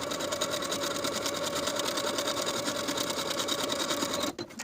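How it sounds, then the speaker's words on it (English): A sewing machine runs steadily, edge stitching around the hems of pleated pant legs: a rapid, even mechanical whir and rattle, close and uninterrupted, stopping abruptly at the end. "I'm going to edge stitch close to the finishing stitches all the way around"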